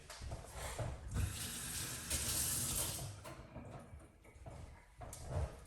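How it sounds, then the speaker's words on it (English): Tap water runs steadily over a lid being rinsed at a kitchen sink, a close, continuous rushing splash that swells and dips as the lid shifts beneath the stream. "Rinse off the lid."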